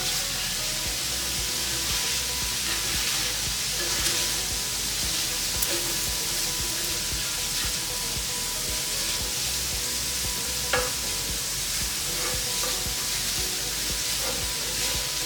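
Lean sausage meat sizzles steadily in a pan while being stirred, with constant hissing frying and occasional scrapes of the utensil, close and continuous with no talk.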